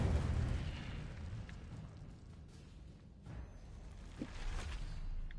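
An Incendio fire spell cast in the game Hogwarts Legacy lets out a low, rumbling burst of flame that fades and swells again over a few seconds, with no talk over it.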